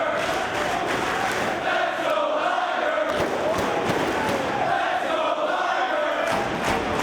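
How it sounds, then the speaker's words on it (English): Arena crowd roars and cheers steadily throughout a professional wrestling match between Jushin Thunder Liger and Bryan Danielson, with thuds and a broad wash of noise filling the hall. "This crowd definitely getting to Danielson."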